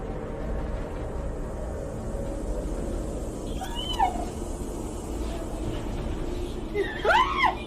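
A cat believed to be possessed gives a few short meows and cries over steady background noise, with one brief call midway and a louder rising cry near the end.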